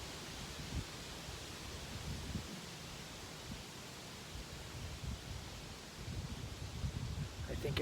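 Steady broadband wind rushing through woodland trees with rustling leaves during a mid-season small game hunt, a continuous airy hiss with a few low gusts, faint background murmur.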